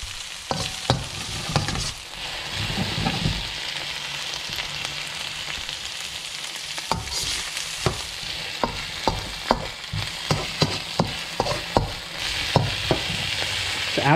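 Beef stir fry vegetables such as peppers, carrots, onions, garlic and ginger sizzle steadily in a pan, with repeated sharp clacks and scrapes of a utensil stirring at an uneven rhythm throughout.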